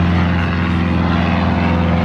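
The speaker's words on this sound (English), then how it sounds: "planes flying over" Propeller planes from a nearby flight-school airport drone overhead, a loud, steady, continuous engine hum with a low buzzing tone that fills the whole stretch without a break.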